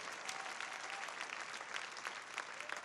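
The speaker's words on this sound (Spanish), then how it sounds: "Deben de dar un aplauso de adoración al Señor por eso." A church congregation applauds in worship, a steady, dense clatter of many hands clapping continuously, heard at moderate distance.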